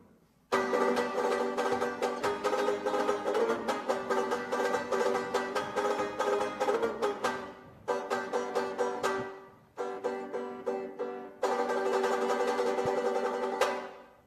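A solo Spanish guitar plays a song live without microphones, a steady stream of plucked, ringing notes and strummed chords with brief pauses near the middle and late in the passage.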